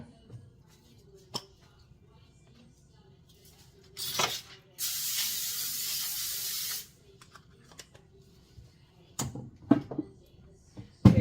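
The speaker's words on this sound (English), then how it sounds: "let me get some spray real quick and spray this aluminum foil" Two sharp cooking spray bursts onto aluminum foil, a short one then a longer steady hiss of about two seconds, amid quiet handling clicks and rustles.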